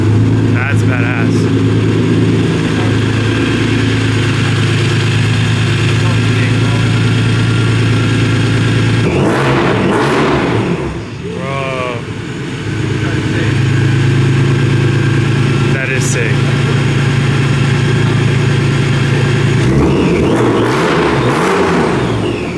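A new car with side exit exhaust idles with a steady low rumble, then revs up loudly around the middle and again near the end, with people talking excitedly over it.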